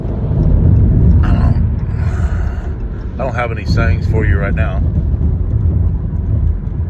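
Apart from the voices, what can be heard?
car road noise while driving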